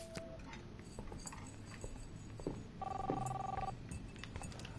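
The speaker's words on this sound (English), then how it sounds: "I want to answer the phone. Let me answer the phone." A telephone rings in a quiet room in Life Is Strange, a moderately loud repeating bell over low background noise with faint clinks, no talking.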